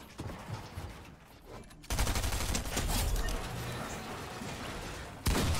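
Rapid infantry rifle fire in Fortnite, a dense, loud sustained burst of shots that starts after a short quieter stretch and runs on, with a second sharp volley near the end.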